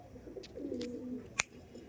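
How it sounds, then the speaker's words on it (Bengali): Andhra pigeons give a soft, faint cooing murmur across the clip, with a sharp click breaking in near the end. "এই দেখুন এই পায়রাগুলো আছে"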